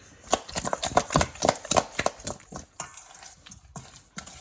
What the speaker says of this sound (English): just mix up that green seasoning with the oxtails